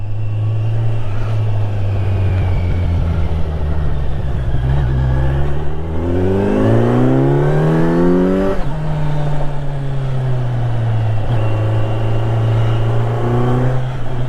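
A Kawasaki Z900 naked motorcycle accelerating hard while ridden, its engine note climbing steadily through the gears with a brief drop at each shift, loud and continuous from close by with no talk.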